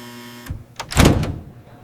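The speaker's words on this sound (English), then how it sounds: "The automatic door is closed." A supermarket's automatic sliding door closes at night with a short mechanical onset, then a louder sliding whoosh that ends in a dull close. It sounds near and no one speaks.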